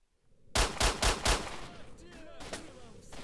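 Pistol gunfire in S.T.A.L.K.E.R.: Shadow of Chernobyl, four sharp shots in quick succession followed by echoing reverb and a later single shot, with faint scattered combat noise.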